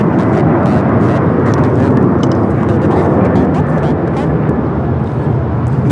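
A United Airlines Boeing 737-900ER taking off at LAX gives a loud, steady jet roar that fills the whole stretch, with brief crackles and bumps of handling noise close by.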